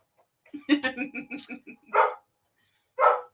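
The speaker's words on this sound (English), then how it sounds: "Now my dog's completely going insane" A dog barks rapidly in a run of about eight close, loud yaps, then lets out two separate louder barks after short pauses.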